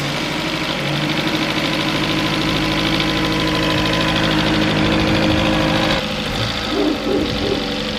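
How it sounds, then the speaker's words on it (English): Ford truck engine idling steadily with a low mid-range rumble, a few light throttle taps briefly raising the revs near the end, close and fairly loud. "Slightly tapping the throttle."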